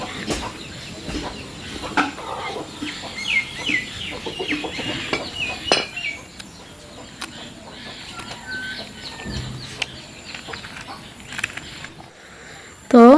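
A hen out with chicks hatched a day or two earlier in a village yard, clucking repeatedly in soft uneven bursts close by, with thin chick peeps, rustling and brief voices in the background.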